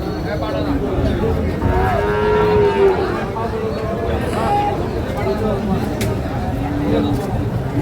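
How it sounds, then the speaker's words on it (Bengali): Crossbred bulls at a busy cattle market low out in repeated drawn-out moos, several calls overlapping over steady crowd chatter and hubbub throughout. "অনেক বড়, লম্বা বড় গরু।"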